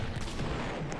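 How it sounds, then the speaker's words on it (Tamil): Gunfire shooting zombies in the Roblox game Survive Area 51, a dense, loud burst of rapid booming shots that fills the whole short moment with no pause. "கண்ணில் தெரியுறது எல்லாத்தையும் சுடணும்."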